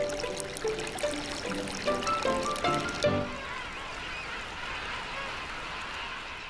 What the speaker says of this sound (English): Countless small streams are fed by rain and glaciers.